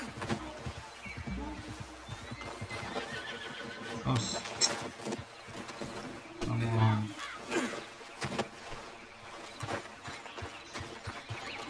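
A horse in the Red Dead Redemption 2 video game neighs loudly partway through amid steady clip-clopping hooves and ambient game sound, with speech nearby.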